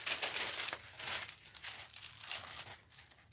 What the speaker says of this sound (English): let's put another piece of wax paper in there because that's damp